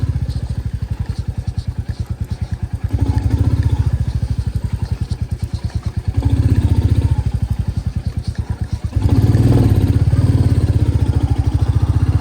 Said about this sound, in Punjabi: ਮੋਟਰਸਾਈਕਲ ਮੋੜਨ ਵਾਸਤੇ ਜਗ੍ਹਾ ਇੱਥੇ ਘੱਟ ਆ